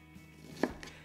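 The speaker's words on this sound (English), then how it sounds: "Next, I'm going to dice some onion." A kitchen knife dicing onion on a cutting board for homemade salsa gives a single crisp, close chop against a quiet room background, with no talking.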